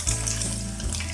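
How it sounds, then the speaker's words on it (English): Pork belly slabs frying in hot oil for crispy lechon kawali, a steady close crackle and hiss running without a break, with a faint low hum underneath. "Fry them for 2 to 3 minutes each side or till golden brown"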